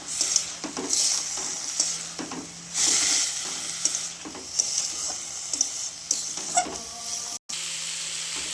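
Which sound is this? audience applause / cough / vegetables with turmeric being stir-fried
vegetables with turmeric being stir-fried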